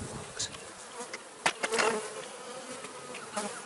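Honey bees buzz around an open hive while brood frames are moved during a transfer to raise a new queen, a dense close drone with brief louder swells as single bees pass near.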